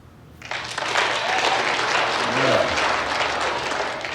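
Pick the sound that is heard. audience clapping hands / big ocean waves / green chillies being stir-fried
audience clapping hands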